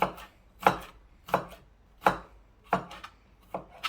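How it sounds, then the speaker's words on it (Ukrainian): A knife chops garlic into small cubes on a board in about seven distinct, close thuds at an uneven rhythm, with quiet gaps between strikes and no voices. "І далі нарізаємо його вповздовж, а потім як ми нарізаємо його кубіками."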